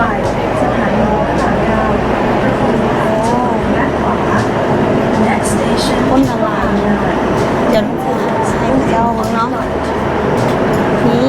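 A loud, continuous rumble of an underground MRT metro train in motion, with rail squeal and rattling carriage noise and people talking over it.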